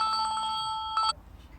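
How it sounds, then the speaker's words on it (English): A telephone ringing with a rapid trilling bell that rings steadily, pauses briefly, and gives a short second burst before cutting off, fairly close and clear, no voices. "Sorry, the phone rang."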